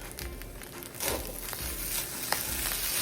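Shrimp fried rice with a sauce mixture sizzles and fries steadily in a pan, a close, continuous crackling hiss with occasional stirring scrapes.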